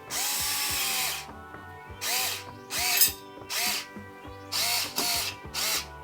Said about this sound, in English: We'll just screw this in.